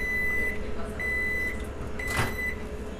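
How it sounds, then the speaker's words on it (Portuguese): A microwave oven alarm beeps in three evenly spaced bursts of steady, high-pitched tones, heard over a low household hum with a brief rustling knock between the later beeps. "como o alarme do micro-ondas"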